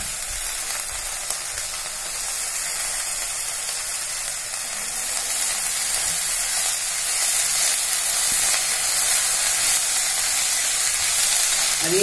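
Vadha narayanan greens sautéing in a hot pan for a ragi adai, a continuous bright sizzle and hiss that runs steadily for twelve seconds and swells a little louder in the second half, with no talk.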